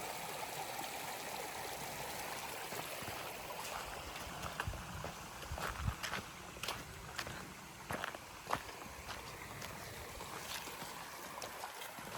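Steady broadband rush of the James River flowing near a trailhead on the Virginia Appalachian Trail, with a few sharp clicks and light footsteps over the constant water noise.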